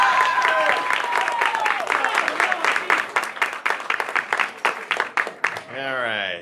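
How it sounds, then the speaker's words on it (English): Theater audience applause, a patter of many hands, rises under a loud, close voice, then a sustained tone rings out at the very end. "let's have one more round of applause for Christian"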